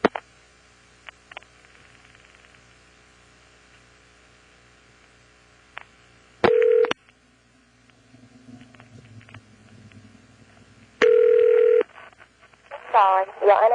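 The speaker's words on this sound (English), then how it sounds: "I'm dialing 311, which I expect will be a vacant code for New Bern's long-distance equipment." A 1977 telephone exchange line is dialed to 311 with touch-tone beeps, two long steady tones and a brief burst at the end, over faint line hiss and scattered clicks.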